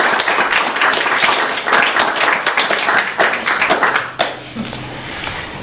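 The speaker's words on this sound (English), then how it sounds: "Another round of applause for our presenters" A congregation at a Unitarian Universalist service applauds its presenters, giving a loud, dense round of many hands clapping that runs steadily, then thins and tapers toward the end.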